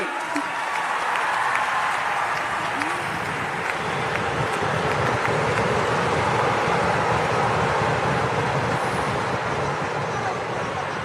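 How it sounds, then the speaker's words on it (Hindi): Loud, sustained applause and crowd noise from an audience cheering a Nagpur dhol drum troupe at an outdoor event in the rain, a dense continuous roar lasting throughout. "ये हमारे नागपुर के ढोल पथक है, इनके लिए एक बार जोरदार ताली बजाइए भैया।"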